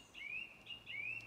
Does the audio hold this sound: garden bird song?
yes